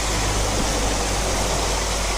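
Waterfall in Alaska, between Seward and Whittier: a dense, steady roar of falling water with hiss across the whole range, loud and unbroken, with a low hum underneath and no voices.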